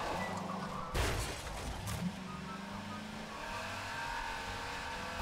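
A car engine in Garry's Mod drones steadily at a low, constant pitch, with brief thumps and knocks near the start, as if the vehicle is driving along a game map.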